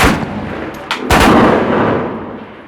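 Several loud gunshots ring out close by in a conflict zone, a sharp crack followed by a heavier blast that rolls into a long decaying echo.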